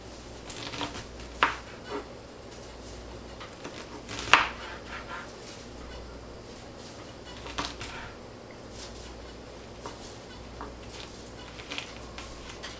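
A knife chops vegetables for salsa on a board in a kitchen, giving faint, irregular thuds and taps spaced seconds apart over low background noise.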